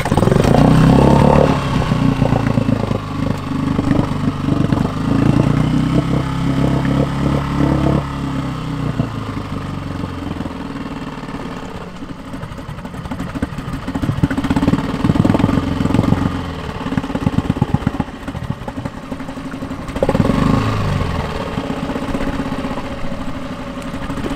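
Small boat outboard-type engine idling just after a choke start, a close, uneven putter that fluctuates and dips in places, running alone without speech.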